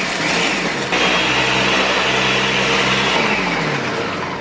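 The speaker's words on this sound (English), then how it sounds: "let's take all this stuff over to the blender" A kitchen blender pulses fresh basil into pesto, its motor whirring in one sustained burst of about two seconds between quieter stretches, close and loud with no talk.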